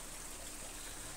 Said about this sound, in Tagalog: ito ang ilog